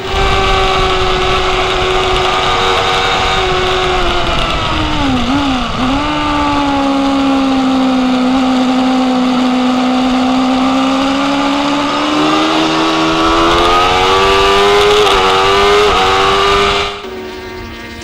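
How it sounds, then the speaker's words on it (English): Formula 600 racing motorcycles at Oulton Park, with a loud, continuous high-revving engine note that holds steady, dips briefly and climbs again as the bikes pass close, then cuts off abruptly near the end. "There's Mark Cronshaw, number 8, the red and white machine, the second of the Formula 600 riders"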